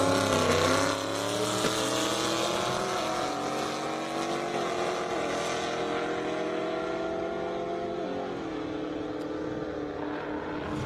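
A 1,300-horsepower Nissan GT-R accelerates down an airstrip at a roll race, its engine a loud, sustained drone whose pitch climbs steadily through the gears, with brief shift dips and constant wind roar throughout.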